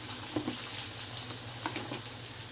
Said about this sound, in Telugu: ఇక్కడైతే చికెన్ ఫ్రై చేస్తున్నానండి పచ్చడికి.